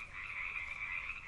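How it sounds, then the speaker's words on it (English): Frogs croak at a pond in a continuous, dense chorus that stays steady and fairly loud throughout, with no voices over it. "Can you hear the frogs croaking?"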